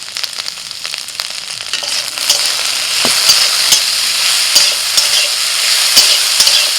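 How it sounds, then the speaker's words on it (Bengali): Okra sizzles steadily as it fries in a pan with salt, green chillies and chopped onion, with scraping stirs and sharp crackles throughout, close and fairly loud, with no talking. "নাড়াচাড়া করতে করতে ঢ্যাঁড়সটা ভাজা হয়ে গেছে"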